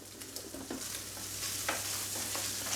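A ham and peas creamy pasta is stirred in a hot pan, a steady sizzle and bubbling running throughout with soft scraping strokes of the spoon, close up.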